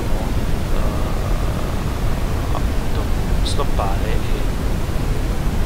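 Broadband generated noise from a web-based white, pink and brown noise generator hisses steadily and loudly throughout, with a few faint tonal blips rising briefly above it.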